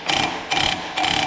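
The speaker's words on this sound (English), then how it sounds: "So this is a hub puller. So you put that on there, and you wind that in." A hub puller being wound in on a truck axle makes three evenly spaced bursts of ratcheting, clicking mechanism noise, close and moderately loud, with no voices.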